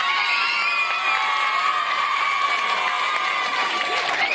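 An audience at a public dictation event in Brétigny-sur-Orge applauds and cheers a teacher, a dense continuous wash of clapping, shouts and children's voices at steady loudness throughout.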